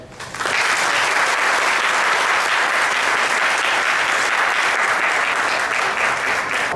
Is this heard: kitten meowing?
no